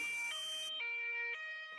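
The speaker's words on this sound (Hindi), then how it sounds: "एम्बुलेंस पीछे पीछे आ रही थी" A cartoon ambulance siren sounds loud and alone, its electronic tone stepping up and down in a rapid alternating pattern.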